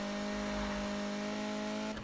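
A heavily modified Mazda Miata in the racing game Need for Speed 2015 holds a sustained, buzzy engine drone at high revs. The drone cuts off sharply at the end.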